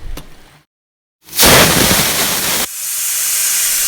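A pressure cooker on the stove cooking squid lets out a loud, sharp burst of whistling steam release, a forceful hiss after a brief silence that continues as a steady loud hiss.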